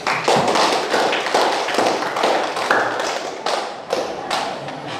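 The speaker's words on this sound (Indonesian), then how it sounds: "Oke, beri aplaus." A classroom breaks into applause: a loud, dense patter of many hands clapping steadily throughout, close and continuous.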